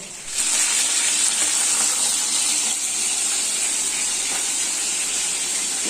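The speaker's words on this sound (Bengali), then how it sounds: "চিকেনটা রান্না করছি আমি।" Chicken frying in a pan gives a loud, steady sizzle and hiss that runs unbroken from start to finish, close up, with no talking.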